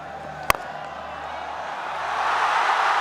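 Cricket crowd roaring at a Pakistan versus South Africa one-day international in Faisalabad, a broad sustained roar swelling louder toward the end, with a sharp single crack near the start.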